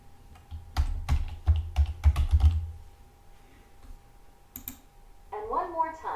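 Computer keyboard keys clacking as a password is typed, a quick irregular cluster of close clicks, then a pause and a later short burst, with someone talking briefly at the end.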